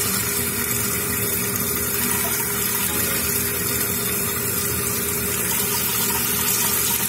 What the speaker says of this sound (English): Flap open, water going in.